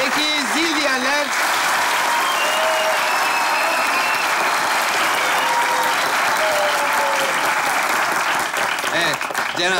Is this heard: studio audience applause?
yes